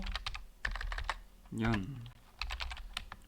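Keys pressed on a computer keyboard in quick light clicks, close and soft, with a brief voiced sound in the middle breaking up two clusters of keystrokes.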